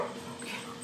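Puppy whimpering, a faint, brief high-pitched whine heard over a soft kitchen background.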